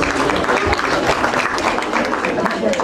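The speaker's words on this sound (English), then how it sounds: "Give them a huge round of applause." An audience claps for prize winners at the annual prize distribution ceremony of DAV College for Girls, a dense, loud burst of applause filling the room while voices mix in over it.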